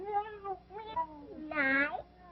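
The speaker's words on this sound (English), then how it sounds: "Where's the kitty?" A cat meows several times close by, drawn-out vocal calls with short pauses between them, fairly soft, in a 1936 film.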